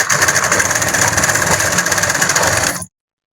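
Sewing machine stitching fabric while sewing a Semi Patiala pant, a loud, fast, steady mechanical whir and chatter that runs close up and stops abruptly.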